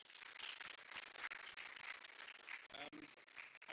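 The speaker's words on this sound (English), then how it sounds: "round of applause for our panelists." Audience applause for panelists at a film expo session: steady dense clapping throughout, fairly close and sustained with a brief dip near the end.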